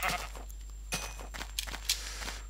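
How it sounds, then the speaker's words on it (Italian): Sheep in Minecraft bleat twice, then a few soft footstep-like taps follow, all over a low steady hum. "Una pecora."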